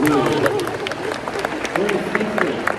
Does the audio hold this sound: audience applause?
yes